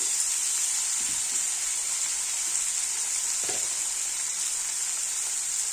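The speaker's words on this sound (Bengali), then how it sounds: "ভালো করে একটু ভেজে নেব" Potatoes and soybean chunks with salt and turmeric sizzle steadily in a hot pan, a continuous bright frying hiss with a few soft stirring scrapes, close and unbroken.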